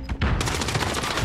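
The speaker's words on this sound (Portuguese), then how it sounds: "Levando tiro aqui!" Rapid gunfire rattles in Call of Duty Modern Warfare, a dense, loud, continuous burst of automatic shots filling the whole moment without talk.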